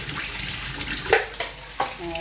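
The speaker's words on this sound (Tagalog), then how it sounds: "hugasan natin yung buto-buto" Tap water running over pork ribs being washed for sinigang, a soft splashing flow with a few brief clattering knocks, fairly quiet and close.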